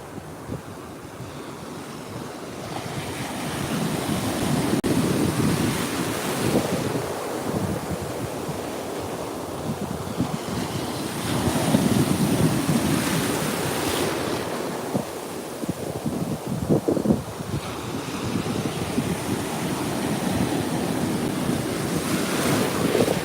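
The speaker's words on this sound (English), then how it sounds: "We're at Ormond Beach." Steady ocean surf rolls and breaks at Ormond Beach, Florida, with wind buffeting the microphone in heavy gusts; the roar swells and eases continuously for the whole stretch, with no voices.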